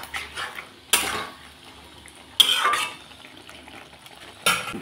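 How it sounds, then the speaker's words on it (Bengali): Pointed gourd and potato fried with spices in a pan, stirred in three loud, abrupt scraping strokes spaced a second or two apart, with a soft frying hiss between them. "এখন আমি পটল আলুর সাথে মশলাটাকে ভালোভাবে কষিয়ে নেব।"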